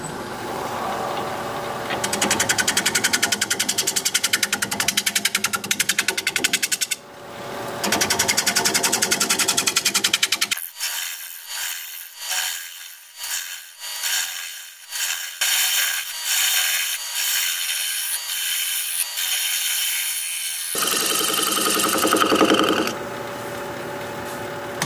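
Wood lathe turns a log into a bowl while a gouge cuts at the bottom, a loud rapid chattering and whirring with a fluttering rhythm, a quieter stretch of intermittent tapping cuts in the middle, no talk.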